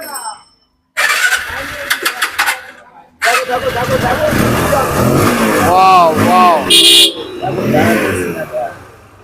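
A used Apache RTR 160 motorcycle at a bike showroom cranks and fires up, settling into a loud, steady idle with some revving, while people talk nearby.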